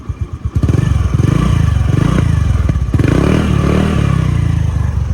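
A 2022 Honda Dio scooter with a modified aftermarket exhaust pipe starts up and settles into a loud, close, throbbing idle with a few revs, and no talking.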